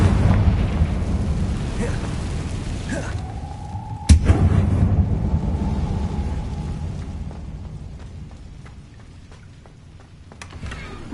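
A Confringo fire spell from Hogwarts Legacy bursts with a sharp blast followed by a rumbling, roaring tail over continuous loud game ambience, with no talking.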